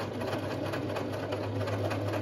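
Sewing machine running steadily as it stitches a shower cap cut from an old shower-cabin curtain, a close, loud, rapid mechanical whir and needle clatter, continuous and alone.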